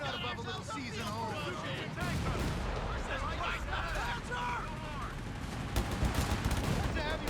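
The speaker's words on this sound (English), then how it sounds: "That's a heavy machine gun." Heavy machine gun fire rattles in a Company of Heroes 3 battle, with rapid bursts and distant booms beneath a dense, constant din. Radio-style voices talk over the shooting.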